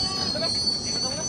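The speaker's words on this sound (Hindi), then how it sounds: "धीरे धीरे यहाँ पर ट्रेन आगे की तरफ बढ़ रही है, माल ट्रेन" A slow-moving freight train pulls out new rails between Nirmali and Ghoghardiha stations, wheels giving a steady high metallic squeal over low rumbling, close and continuous.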